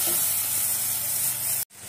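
Green chillies frying in hot oil give a loud, steady, close sizzle that cuts out briefly near the end before resuming.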